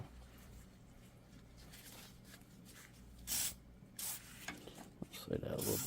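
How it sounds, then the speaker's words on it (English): Short aerosol bursts of WD-40 sprayed onto a Jeep Wrangler front axle universal joint during an axle rebuild, faint hissing spurts after a quiet stretch, growing busier toward the end. "we're going to spray some WD on that."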